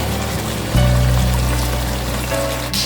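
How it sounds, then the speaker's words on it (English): Beef broth poured into a pot of Jamaican jerk pork, a steady liquid stream running continuously for a few seconds at close range with no talking. "I'm going to add some beef stock. Yes, some beef broth into"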